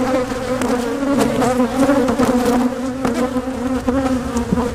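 Honey bees buzz steadily around an open hive during a hive split, a dense, loud, continuous drone with occasional sharper passes as bees fly close. No talking is heard.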